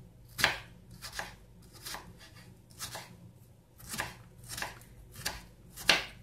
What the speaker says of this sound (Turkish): Şöyle küçük küçük doğruyorum.